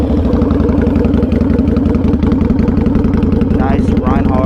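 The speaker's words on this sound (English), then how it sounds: "It's a pretty loud bike, so be ready." A 2005 Harley-Davidson V-Rod idles loudly through aftermarket Rinehart racing pipes, a deep, close, rapid throbbing that stays even, and a brief voice surfaces near the end.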